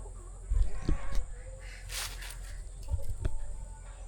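Chickens cluck in short, scattered bursts over a low background hum, fairly close, with a few faint knocks between calls.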